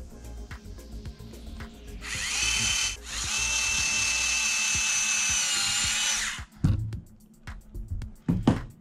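A power drill drives screws into parts of a Traxxas TRX4 Sport kit axle, a steady whirring run of about four seconds broken by a brief pause, followed by a few short clicks and knocks of handling.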